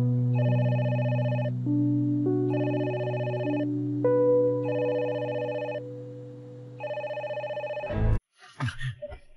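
A telephone bell rings in loud repeated bursts with short pauses, alone over a soft musical tone, then cuts off abruptly as the receiver is picked up, in a Hong Kong TVB drama scene.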